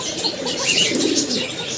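A male pigeon cooing beside its female, low and soft, repeating over a steady wash of background noise, close by.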